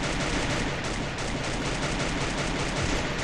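Gunfire in the mobile video game Free Fire, a dense, continuous rattle of rapid shots with no clear gaps.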